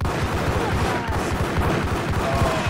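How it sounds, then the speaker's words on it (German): Enemy gunfire in the video game Max Payne: a loud, dense run of rapid shots that keeps going without a break, with no talking over it. "die auch direkt auf mich schießen"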